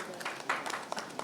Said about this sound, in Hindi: Jamie के लिए ज़ोरदार तालियां हो जाए